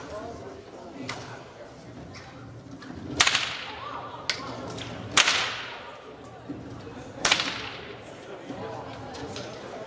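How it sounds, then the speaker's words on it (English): Three loud, sharp whip cracks ring out at irregular intervals, with a softer snap or two between them, over faint background talk and room noise. "So instead, I brought my whip"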